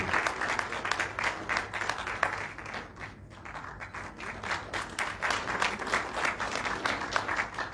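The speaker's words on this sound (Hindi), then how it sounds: "मैं चाहूंगा जोरदार ताली आप सबकी तरफ से बजनी चाहिए।" Sustained applause from an audience at a large religious satsang gathering, a steady dense wash of clapping across the whole stretch with a brief dip midway before swelling again.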